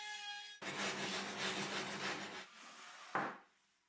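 Wooden board edges roughly rounded off with a rasping tool, a close, continuous coarse scraping for about two seconds, then a brief sharp scrape before quiet.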